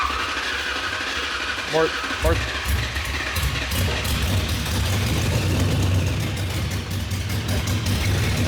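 After a voice and a brief metallic whir, a Ford Cobra Mustang's long-dormant 800-horsepower engine fed starting fluid catches and settles into a loud, lumpy idle, with people talking over it.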